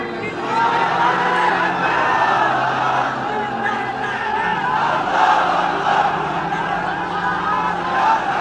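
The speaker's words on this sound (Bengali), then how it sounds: "তাকবীর দেন তো একজন আওয়াজ করে" A large gathering at a Bangladeshi waz sermon shouts the takbir, Allahu Akbar, in unison. The loud, sustained collective roar rises and falls in waves with a murmur of voices throughout.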